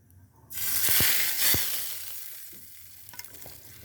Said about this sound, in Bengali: তেলটা গরম করে ঢেলে দিলাম